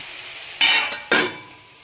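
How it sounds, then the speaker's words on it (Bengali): Two scraping stirs of a jackfruit and potato curry in a pot, a spoon dragging through the thick mixture with a faint clink, close and clear over a low kitchen hiss. "আমি একটু নেড়ে চেড়ে ঢাকা দিয়ে দেবো কিছুক্ষণের জন্য, যাতে এটা সেদ্ধ হয়।"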